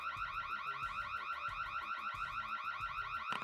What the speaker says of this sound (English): I'm going to run over and see if I can hit the button again and switch the alarm off.